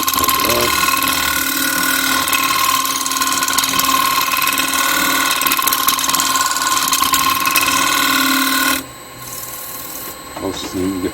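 A wood lathe spins a bowl while a tool cuts off a ridge, making a steady loud whirring hum with a rasping scrape, then the sound drops away abruptly near the end.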